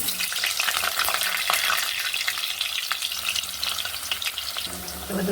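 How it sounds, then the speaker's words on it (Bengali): Potatoes fry in hot oil for a mutton curry, a dense, steady sizzle with crackling pops and occasional stirring scrapes, loud and close throughout with no talking. "দিয়ে আলুটাকে ভেজে নেব"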